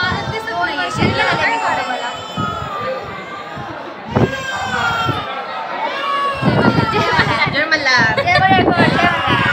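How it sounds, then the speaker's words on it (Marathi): Dense crowd chatter fills a busy temple hill, a constant babble of many voices with footsteps and bumps, while nearby people talk loudly over it. "आणि गर्दी तर एवढी आहे ना गर्दी खूप गर्दी"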